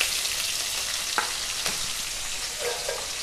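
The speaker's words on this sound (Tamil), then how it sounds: "இந்த மசாலாலாம் எண்ணெயில் 2 நிமிஷம் நல்லா வதங்கட்டும்" Spices, green chillies and curry leaves sauté in hot oil for a gram flour kurma, giving a steady, close sizzle and crackle with a few light stirring scrapes.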